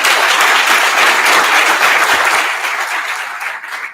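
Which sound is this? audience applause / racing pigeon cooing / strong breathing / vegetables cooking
audience applause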